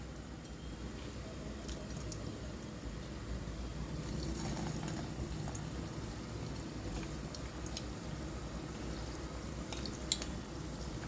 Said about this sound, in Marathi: तर आता तेल गरम झाले आहे आणि आपण कोफ्ते सोडणार आहे तेलात.